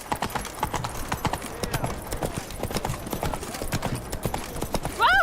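Horse hooves clip-clop steadily in The Witcher 3 video game, a continuous brisk rhythm of close, moderately loud footfalls, with a brief higher-pitched sound near the end.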